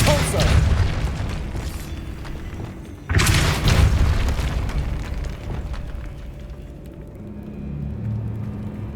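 Confringo spell explosion in the Hogwarts Legacy video game, a loud deep boom with rumbling burst that decays slowly, followed by another softer blast as game sounds continue.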